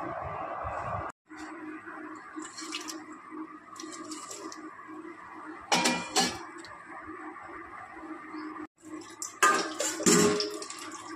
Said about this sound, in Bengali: চিচিঙ্গাগুলো ধুয়ে নেব।